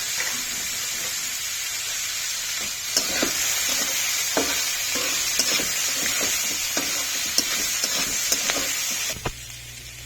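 Asafoetida and curry leaves sizzle loudly in hot oil in a pan for a tempering, with a spoon stirring and scraping in quick irregular clicks over a steady hiss that drops off sharply near the end.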